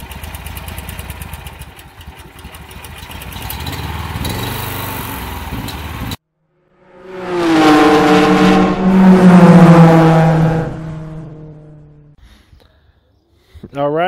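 A Honda GX340 small engine on a go-kart runs with a steady, buzzy drone, then cuts out and revs loudly again before fading, with a person talking over part of it.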